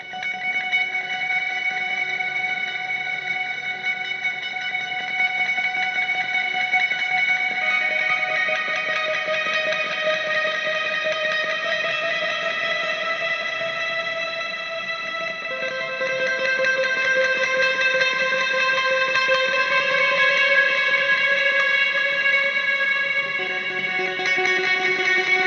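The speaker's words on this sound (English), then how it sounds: "It's amazing how one instrument with all of these effects can give this huge sound." A sustained electric guitar lead, a cover of a film theme, played through heavy Strymon and Fractal Audio effects, with long reverberant, echoing notes that shift in pitch over a steady, full-sounding drone, with no voices.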